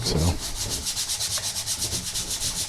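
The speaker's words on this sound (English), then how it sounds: "I've got some super fine sandpaper" Fine sandpaper rubs back and forth across the plastic surface of a Studiologic SL-161 MIDI controller being prepared for custom painting, a steady rhythmic scratching of about a dozen strokes, close and fairly loud, with one brief spoken word.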